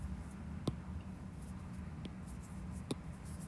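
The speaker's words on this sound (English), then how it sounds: "Why do I write so slow? Are you writing on the Apple Pencil too now?" An Apple Pencil taps and scratches faintly on a tablet screen, giving a few sharp isolated taps over quiet soft stroke noise.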